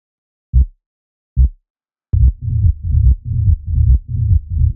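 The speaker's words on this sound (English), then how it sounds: "Then we got our bass line." Two deep isolated thumps, then a steady pulsing techno synth bass riff from an Operator synth with punchy drum rack hits, loud and rhythmic, no voices.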